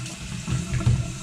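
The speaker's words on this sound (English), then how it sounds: "I'm gonna go ahead and run this hot water" Hot water runs steadily from a tap, a continuous low rushing flow that swells slightly toward the end, with no voices over it.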